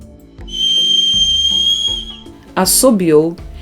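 A person whistles a long, steady high note, followed by a shorter, sliding whistle after a short pause.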